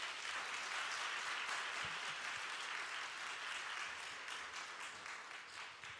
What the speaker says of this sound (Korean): 우리 두 지체에서 다시 한번 인사할 때 박수로 돌려보내면 좋겠습니다